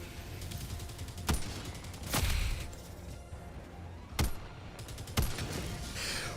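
Gunfire from the Reprimand weapon in the video game Helldivers 2: four loud, sharp single shots spaced about a second apart cut through a constant rumbling battle din.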